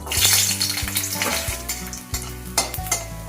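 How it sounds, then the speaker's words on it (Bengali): Garlic cloves frying in hot mustard oil, a loud, close sizzle broken by repeated scraping strokes of a spoon against the pan. "এবারে ভেজে নিচ্ছি 5-6 কোয়া রসুন।"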